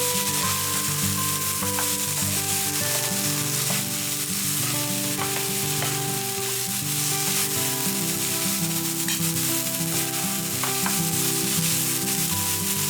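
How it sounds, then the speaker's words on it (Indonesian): Steady, loud sizzling of garlic, onion and mushrooms frying in a pan, with occasional scraping and stirring over a constant hiss and a musical hum underneath. "tumis bawang putih hingga tercampur merata dengan bawang bombay dan jamur di dalam panci penggorengan"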